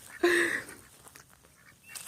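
A duck gives a single loud, nasal honk-like quack at close range, followed by quieter scattered rustling and faint noises.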